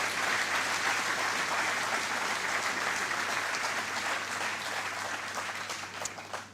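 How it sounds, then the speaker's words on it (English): An audience applauds at a ceremony unveiling a commemorative Golden Jubilee EC$50 banknote, producing steady, full-room clapping that holds for several seconds before thinning out and fading at the end. "Let's give Orlando a round of applause."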